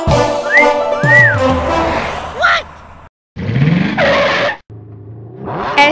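A car drives with its engine revving during a comedic film spoof scene. Loud rising and falling engine sweeps mix with whistling, skid-like squeals and abrupt silent cuts, and voices are heard in between.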